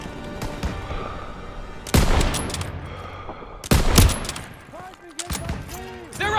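Gunfire in a Call of Duty WW2 campaign battle at a stronghold: dense bursts of rifle and machine-gun fire with heavy booms, loud and close, under shouted voices.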